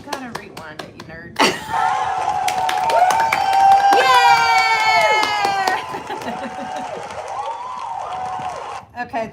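A crowd cheers loudly from a played-back recording, a sustained burst of whooping and shouting that swells after a sharp onset and then fades, with a few voices nearby.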